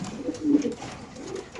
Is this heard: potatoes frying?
no